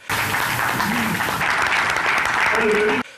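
Applause at a municipal council meeting where a three-year program is adopted by acclamation, a dense, steady clapping from a crowd lasting about three seconds, with voices murmuring underneath.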